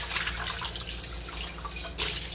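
Tap water runs steadily into a sink while dishes are washed, a continuous splashing hiss with small drips and clinks, close and alone without talk.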